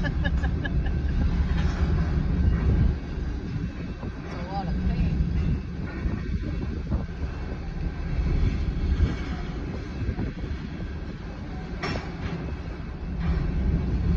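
A train passing a road crossing on Britton Road in Oklahoma City, heard as a loud, steady low rumble and rolling of rail cars throughout, with faint voices talking nearby.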